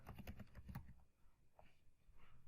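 Typing on a computer keyboard while entering a JavaScript querySelectorAll command into a browser console: a quick run of close, crisp key clicks, then a few scattered lighter taps, with no talking.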